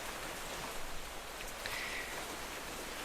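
Rain in Minecraft makes a steady, soft hiss of falling drops, faint and even throughout with no voices over it.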